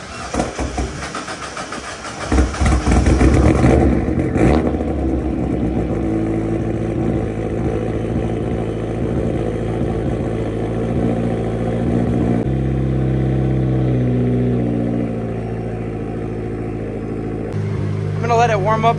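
A turbocharged Mazda Miata engine cranks and fires up, then settles into a steady idle with a droning, slightly uneven tone. The idle dips and shifts a couple of times.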